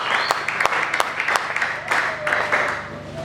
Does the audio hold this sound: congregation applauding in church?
yes